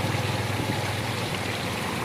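Floodwater from a typhoon rushes past near a former bridge, a continuous churning, gushing roar of swollen water that stays steady and fairly loud close by, with no voices.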